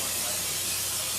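Cooking spray hisses steadily into cake pans in a home kitchen while Disney princess cakes are made, a continuous close aerosol spray lasting about a second with no talking.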